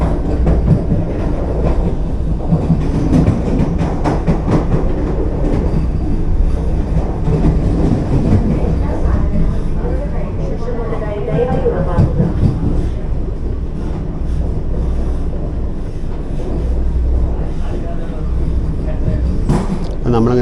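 Vande Bharat express 20634 rolls into Chengannur station, heard from on board as a loud continuous rumble with clickety-clack of wheels over rail joints and faint squeals, while people talk underneath.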